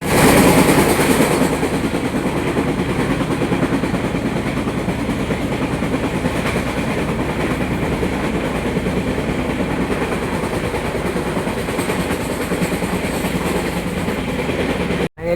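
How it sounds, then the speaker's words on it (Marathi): Train pulling in at Kolad station after running late, a steady close rumble with rhythmic clickety-clack of wheels over rail joints and engine drone, continuous and loud, cutting off abruptly at the end. "फायनली ट्रेन आता कोलाडला आली आहे"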